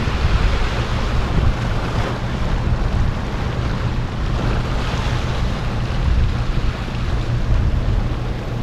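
Strong headwind buffets the microphone at sea aboard a fishing boat, with a steady loud rush of wind and surf churning throughout, no voices.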